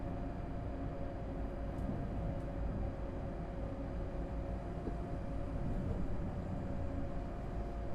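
An ICE high-speed train set rolls past in Train Sim World 6 on the remastered Köln–Aachen route, a steady broadband rumble and hiss of wheels and traction that holds at even loudness throughout with no voices.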